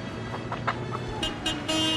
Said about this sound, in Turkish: Vatandaşa korna ha.